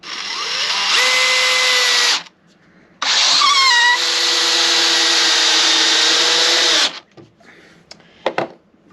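Craftsman V20 gen 2 brushless hammer drill driving a screw without a pilot hole, two loud sustained whirring runs with a short pause between, the motor pitch dipping under load, ending with a few clicks.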